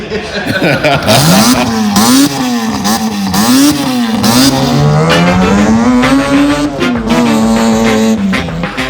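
A Volvo fitted with a homemade 4-rotor rotary engine built from two 13B units runs loudly and steadily close by, its pitch swooping up and down in repeated revs for the whole stretch.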